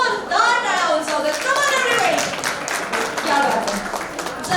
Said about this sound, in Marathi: एकदा स्वतःसाठी जोरदार टाळ्या उंचावते